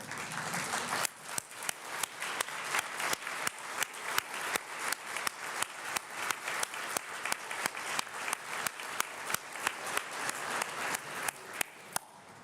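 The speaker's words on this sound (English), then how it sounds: "I will ask everyone in this room to stand up and give you the round of applause that you deserve" Conference audience applauding, dense sustained clapping from a large room that runs continuously and evenly throughout, fairly loud with no voices over it.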